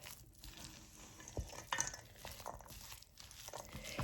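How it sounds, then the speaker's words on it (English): Spoon stirring chicken salad with mayonnaise in a bowl, soft wet scraping and occasional light clinks against the bowl, steady and close, no talk. "And keep stirring, because you'll find little pockets that are not mixed in"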